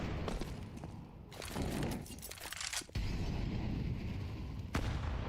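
In Counter-Strike, a grenade blast and bursts of gunfire sound from a match, with sharp cracks and rumbling booms scattered over a steady noisy background, fairly loud and close.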